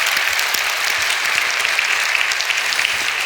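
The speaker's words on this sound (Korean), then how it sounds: "하나님께 영광에 박수합시다." A church congregation bursts into sustained applause, a dense, even wash of many hands clapping together at close range, steady and loud throughout with no voices rising above it.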